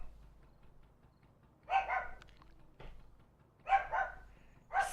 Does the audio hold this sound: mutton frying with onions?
no